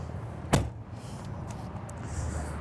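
A compartment door on a 2023 Newmar Super Star 4061 RV opens with a single sharp latch click near the start, followed by faint rustles and light thumps against a quiet outdoor background.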